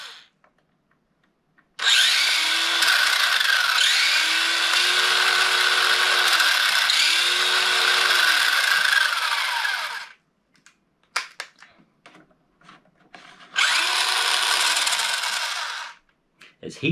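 Motor of a vintage 1980s Taiyo Heads Up Hopper RC car in low-gear S mode, a loud high-revving electric whine with gear noise that runs about eight seconds, cuts out amid scattered clicks, then revs again briefly.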